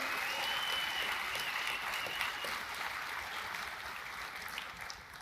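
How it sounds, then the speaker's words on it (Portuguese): A church congregation applauds together in sustained, steady clapping that fills the whole stretch, loud and dense from start to finish with no voices standing out. "Pode aplaudir ao Senhor."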